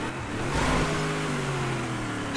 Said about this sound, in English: This loud-ass Chevy. The engine's going to blow up in it.